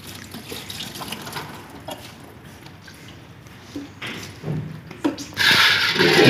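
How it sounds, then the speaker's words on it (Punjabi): Water sprayed over the parts and side plates of an air cooler during cleaning, a steady hiss and splash that swells louder near the end, with no talk over it. "ਪਾਣੀ ਮਾਰ ਰਹੀ ਹੈ"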